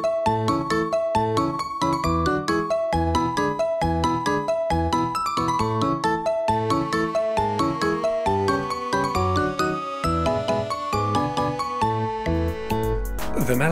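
A homemade Super Mario World-style title theme plays, a bright, bouncy melody over rhythmic plucked accompaniment and a chromatic counter melody, steady and clear throughout, ending with a brief swell.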